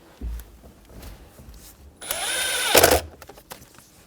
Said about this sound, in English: install the Phillips head screws on either side. Make sure they're nice and snug.